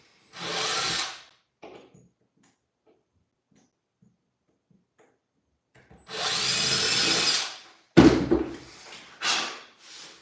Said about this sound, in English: Pre-drill right in the dead nut center.